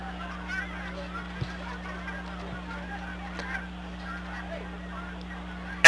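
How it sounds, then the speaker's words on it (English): A flock of geese passes overhead at a Colorado high school football championship game, giving scattered, fairly distant honks over a low steady hum, with no clear talk. "Flock of geese overhead."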